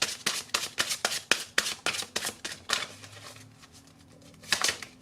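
A tarot deck is shuffled in a burst of sharp, rapid card slaps and riffles close by. A pause follows, then a few more snaps, with no talking.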